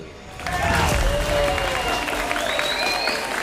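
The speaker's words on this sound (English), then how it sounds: "The crowd is on their feet." Crowd applause and cheering fill a Combate Global fight event in Miami, a steady, dense roar of clapping that swells after a quieter start and stays loud throughout, with faint whistles riding on top.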